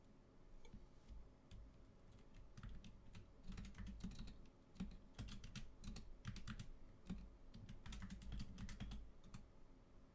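Rapid clicking of a computer keyboard during a competitive online game match, bursts of close, crisp keystrokes with short pauses between them, continuing steadily for about ten seconds with no voices.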